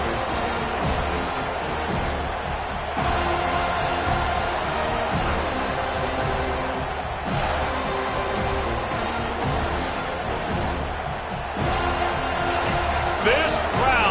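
A football stadium crowd roars continuously at full volume, a dense wall of cheering and shouting that swells slightly now and then, heard from within the stands beneath a commentator's voice.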